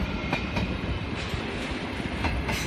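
A train rolls through Eindhoven Centraal station, giving a steady, continuous rumble with a faint rhythmic clatter of wheels over rail joints. It is fairly close and heard alone, with no voices.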